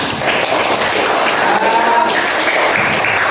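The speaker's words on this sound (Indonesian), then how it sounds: "Tepuk tangannya." Classroom applause for a student group during a religious studies lesson, a dense and steady patter of many hands clapping close by for about three seconds, with faint voices underneath.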